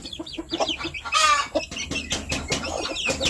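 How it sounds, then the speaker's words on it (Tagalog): Japanese Shamo chicks and other chickens on a farm, with repeated clucks and chirps, a louder burst of calls partway through, and busy overlapping bird sounds close by. "Ito naman, may mga sisiw dito."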